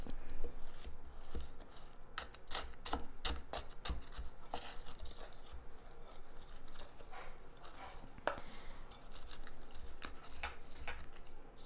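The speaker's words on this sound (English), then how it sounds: "I'm going to use the spoon to mix it" A spoon works through a bowl of thick, dry batter at home, giving steady rhythmic scraping and tapping clicks against the bowl, close and fairly quiet, with no talking.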